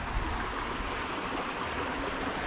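Steady rushing water flows through a creek running beneath a city, a broad, continuous wash of noise close by that holds even in level for the whole stretch, with no voices or other sounds breaking through.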